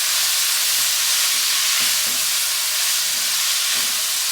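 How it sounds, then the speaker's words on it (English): A mixture seasoned with paprika being stirred in a hot pan for chicken pot pie, a steady broadband sizzle and hiss with faint scraping strokes underneath. "so we're going to mix this all up."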